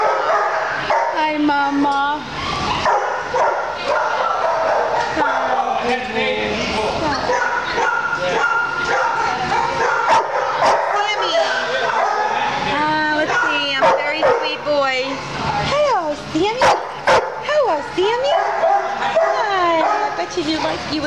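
A domestic dog at an animal shelter yips, whimpers and barks almost nonstop in close, loud, high-pitched bursts, while someone talks affectionately over the noise.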